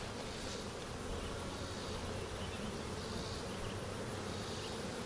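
Honey bees buzz thickly and continuously at close range at a hive entrance, a steady swarming drone with no voices.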